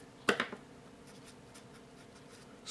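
A Sharpie fine point permanent marker makes one short, scratchy burst of strokes on paper near the start. After that come only faint rustles of handling in a quiet room.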